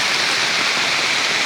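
Heavy rain pours steadily and loudly, a dense, unbroken hiss with no pauses and no voices.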